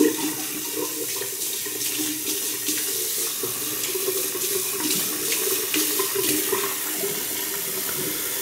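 A bathroom tap runs with cold water during a wet-shaving routine, a steady close splashing flow that continues unbroken with no voices.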